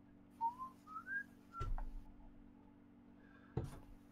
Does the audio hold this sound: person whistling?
yes